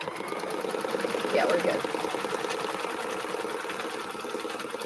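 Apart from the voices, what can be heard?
embroidery machine stitching out a template in the hoop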